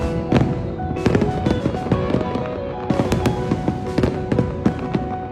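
Fireworks burst over the Sumida River during the Tokyo festival, a rapid series of loud booms and crackling pops close together, with no speech.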